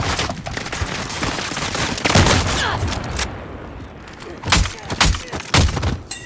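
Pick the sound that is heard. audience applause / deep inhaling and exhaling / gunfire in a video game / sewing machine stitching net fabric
gunfire in a video game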